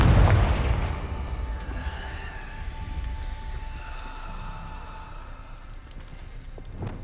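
A Confringo spell goes off in Hogwarts Legacy with a loud, booming blast at the start. The roar rumbles and fades over a few seconds into a quieter ambient hum, with a small pop near the end.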